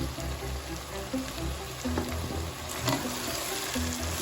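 Chicken pieces fry in a pan as tomatoes and green chillies go in, giving a steady close sizzle with faint stirring and scraping and no talk.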